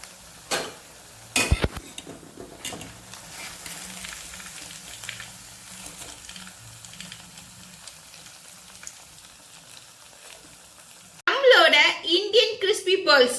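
Indian crispy balls frying in oil, with faint bubbling, stirring and scooping clinks under a voice, then louder talk at the end.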